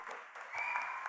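An audience at a talk claps hard in steady, dense applause that grows slightly louder as it goes on, with no speech over it.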